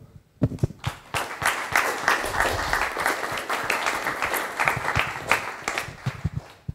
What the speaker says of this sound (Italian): darci un'occasione per fare un applauso di congratulazioni a Gigi e a tutta la squadra.